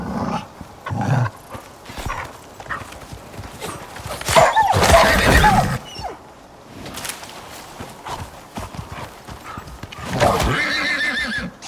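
A horse in the video game Icarus neighs loudly while hooves clip-clop along, with a dog barking at times and a second shrill whinny near the end.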